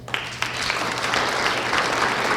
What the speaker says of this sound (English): I'd like some really big applause because they deserve it